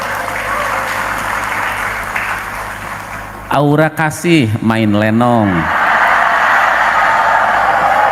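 At a school gathering where an education official gives a speech, an audience cheers and applauds in a steady wash of noise. It pauses briefly while someone speaks, then the crowd noise swells again.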